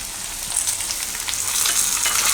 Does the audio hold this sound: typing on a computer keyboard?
no